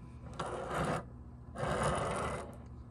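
A model 2-8-4 Pere Marquette Berkshire steam locomotive with a Pittman DC-71 motor runs in two smooth bursts of steady whirring hum, each lasting about a second with a short pause between, heard close and alone.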